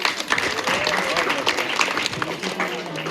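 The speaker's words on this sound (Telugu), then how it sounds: "క్లాప్స్ పిల్లలు" Children clap together at a village school Independence Day celebration, a dense spatter of hand claps filling the whole stretch, with voices mixed into the crowd noise.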